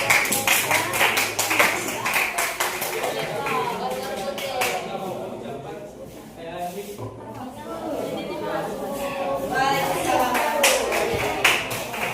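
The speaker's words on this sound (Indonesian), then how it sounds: "Oke, berikan tepuk tangan untuk" Classroom applause for a student group in an Indonesian lesson, scattered hand claps mixed with steady chatter and talk throughout, the clapping loudest at the start and again near the end.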